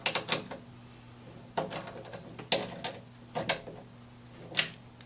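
Caster bolts being tightened on a Harbor Freight rolling tool cart, a handful of scattered clicks and metallic rattles at irregular intervals over a low hum, close and fairly quiet, no talking.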